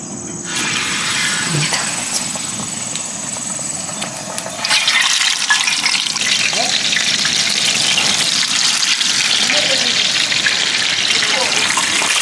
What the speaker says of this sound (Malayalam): പൈനാപ്പിൾ ബജിൻ്റെ മാവ് നമുക്ക് എണ്ണയിലേക്ക് ഇട്ട് കൊടുക്കാം